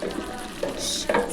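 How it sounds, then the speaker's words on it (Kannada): Chicken frying in a pan at a temple festival food stall, with close, steady sizzling and a few short scraping stirs over a brief moment. "ಚಿಕನ್ ಫ್ರೈ ಆಗ್ತಾ ಇದೆ."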